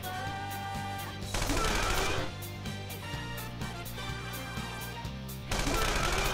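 Video game gunfire from Persona 5 Royal: dense runs of rapid shots over a busy game soundtrack, with louder bursts near the start and end, loud and continuous throughout.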